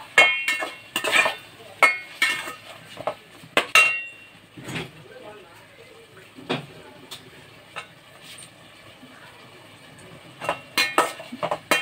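Ginger garlic paste being sautéed for Bai-style mutton biryani, with a spoon clinking and scraping against the pot in irregular bursts and quieter stirring between them.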